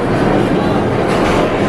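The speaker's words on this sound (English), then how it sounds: "Train." A train rolls past close by, a loud, dense, continuous rumble with broadband rushing noise and no distinct clicks, lasting under two seconds with no voices.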